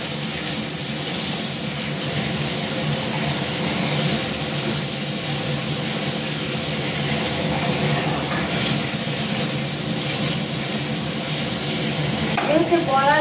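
Water poured into a pan of frying masala for a Bengali bora curry, giving a loud continuous sizzle and bubbling with stirring scrapes throughout, close up, with a brief clink near the end.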